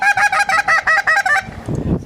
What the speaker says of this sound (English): And this is when the goose honks back at me.